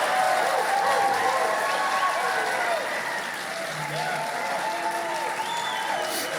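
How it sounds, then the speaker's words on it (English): Audience applause fills a theater at a Colorado 5th Congressional District debate, a steady dense wash of clapping that carries on throughout with crowd murmur and voices mixed beneath. "Now you may applaud."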